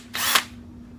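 An electric drill runs briefly with a rubber band strapped around it to hold the trigger, a sanding disc pad fitted in the chuck, spinning up near and loud for about a quarter second and then stopping.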